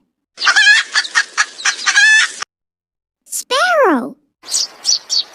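A hen clucks in a quick, loud, close burst of short notes, then gives a longer swooping call, followed by a few more sharp clucks with brief silences between them.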